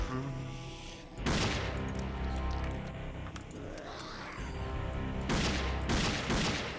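Gunfire from the first-person shooter Dead Effect on PC, with two loud, close bursts of shots early and late, separated by a stretch of quieter in-game ambience and rumble.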